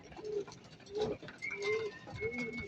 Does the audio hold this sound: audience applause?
no